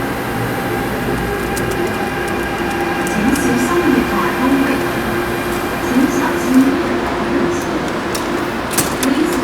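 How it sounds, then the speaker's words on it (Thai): A train rumbles steadily into a station in Hong Kong with a low mechanical drone and squealing brake tones, while a person speaks over it. "รถไฟมาแล้ว"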